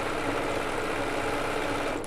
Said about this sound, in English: This machine has really big bobbins, Lee.